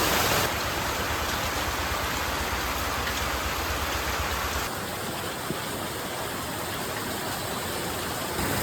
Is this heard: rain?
yes